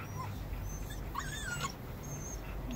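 A dog whimpering close to a baby possum, with soft high whines and yips rising over a steady background hiss, no talking.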